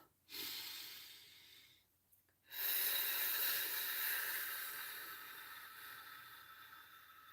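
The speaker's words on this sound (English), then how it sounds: "let's do some nice deep breaths" Slow, deep breaths drawn in and let out in a calm guided breathing exercise, a long airy hiss of inhale, a short pause, then a long steady exhale, close and alone with no talking.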